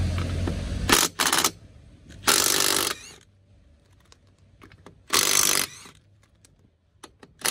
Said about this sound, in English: fortunately i do have an impact gun and i don't have to fuck about in that sort of manner